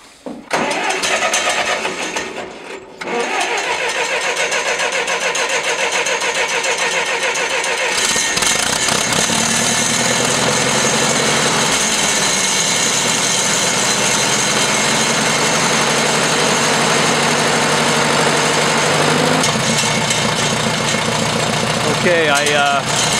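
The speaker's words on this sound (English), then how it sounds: "It's the idle speed is too low, so I'm just adjusting that right now." A Massey Ferguson 50 tractor engine runs steadily at idle after a -8°C cold start, a loud, continuous, close mechanical drone with a brief dip near the start, and someone talking over it.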